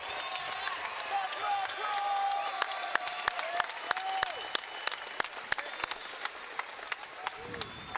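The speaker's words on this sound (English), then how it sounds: "how about another round of applause for these two magnificent men? Make some noise!" A fight-event crowd applauds and cheers after a submission win, a broad wash of arena clapping and voices with sharp individual claps cutting through, under an announcer's amplified voice.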